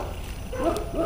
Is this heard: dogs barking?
yes